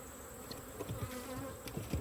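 Agitated honeybees at a hive make a steady, insistent drone, with closer bees zipping past in short, louder bursts and no talk.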